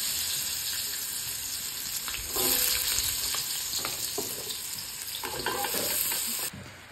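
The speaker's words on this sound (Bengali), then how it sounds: "ফোড়নটা লাল লাল হয়ে গেছে, ভাজা হয়ে গেছে। এখন সবজিগুলো সব দিয়ে দিচ্ছি।" Mixed vegetables go into a reddened spice tempering in hot oil and fry with a loud, continuous sizzle while a spoon scrapes and stirs the pan. The frying surges partway through and then drops off abruptly near the end.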